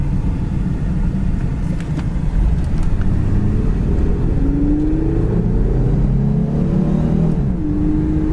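A red 2003 Ford Mustang coupe with a six-cylinder engine accelerates hard, a loud, steady rumble rising in pitch through the gears with brief dips at each shift, heard from inside the car.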